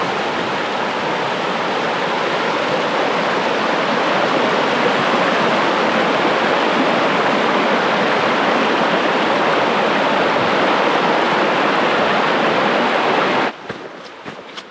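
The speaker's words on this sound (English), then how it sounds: "LaBarge Creek has a lot more water today than it did yesterday." Creek water rushing steadily through a desert canyon in the Superstition Wilderness, a loud, continuous roar of flowing water close by that cuts off abruptly near the end.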